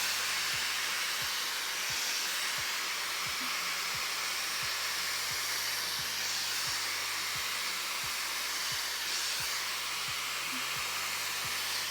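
A Shark FlexStyle hair styler blows air through a round brush in a steady, continuous rushing hiss that runs unbroken at close range with no talk.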